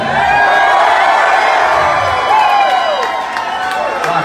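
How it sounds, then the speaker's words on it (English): A rock concert crowd in Indianapolis cheers, whoops and shouts loudly and continuously, a dense roar of many voices close to the stage. "Rock and roll crowd here"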